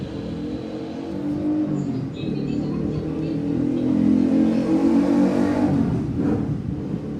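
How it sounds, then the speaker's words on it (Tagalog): A continuous motorcycle engine drone rumbles close by, swelling slightly as it revs, with faint voices mixed into the noise. "Ingay ng motor."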